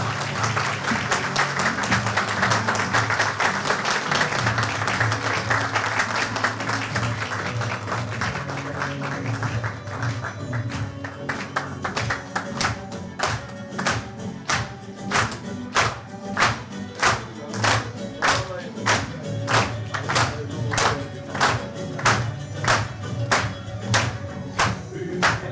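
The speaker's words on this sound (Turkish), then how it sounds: "Alkışlarla." Applause at a political rally in Dalaman as a metropolitan mayoral candidate is invited to the podium, starting as a loud dense crowd wash, then turning into rhythmic unison clapping that pulses steadily to the end.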